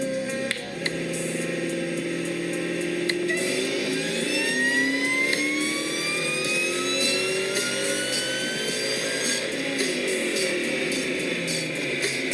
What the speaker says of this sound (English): Love this sound of the Kenny Bell. It's probably my favorite sounding supercharger.